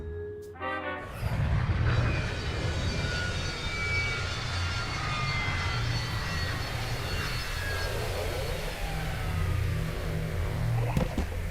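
An aircraft in Psychonauts 2 roars steadily as it comes in to land, a sustained engine rumble with shifting whines following a brief tonal cue at the start, ending with a sharp knock.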